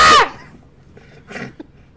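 A single sharp close cough bursts out, followed by a softer, raspy throat sound a moment later in a quiet room.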